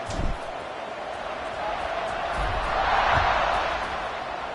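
Stadium crowd noise from a college football video game, NCAA Football 26, BYU Cougars versus NC State Wolfpack during a kickoff: a steady, broad roar that swells slightly midway, with no voices in the foreground.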